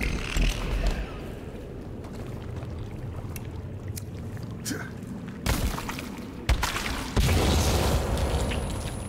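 Grenade blasts in the survival game Sons of the Forest, with several sharp, booming explosions bursting over a steady rumble of outdoor ambience and scattered thuds.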